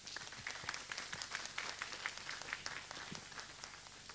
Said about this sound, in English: Have a round of applause for everybody.